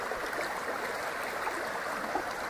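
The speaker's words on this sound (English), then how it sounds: "But this brook is definitely moving." A rain-swollen forest brook rushes past, a steady close wash of flowing water that runs on unbroken with no voices.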